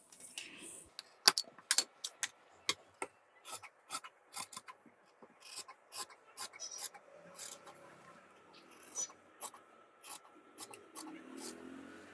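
Tailor's scissors snip through safari suit fabric in a quick series of short, crisp cuts. The cuts come in irregular bursts, close and fairly quiet against a near-silent room.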